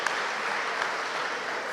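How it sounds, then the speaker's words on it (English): Applause at the close of a government stakeholder engagement event, a short wash of steady, fairly soft clapping from an audience with no voices on top. "So a big round of applause for all of us who've made today a success"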